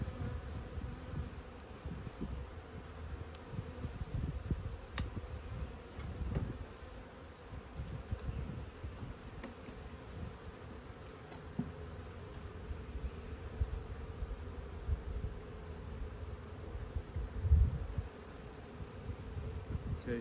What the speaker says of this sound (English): Bees are stirred up a little bit.